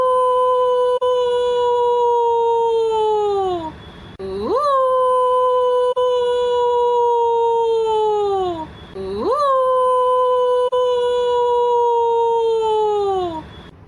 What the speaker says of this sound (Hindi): ये कहकर सियार फिर से चिल्लाने लगा।